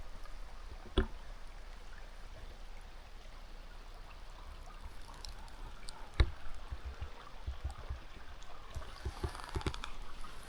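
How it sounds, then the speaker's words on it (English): A clear running stream on a hot desert trail gives a soft, continuous gurgle and trickle, faint and close, with occasional footstep thumps and brushing sounds over it. "Running stream with clear water."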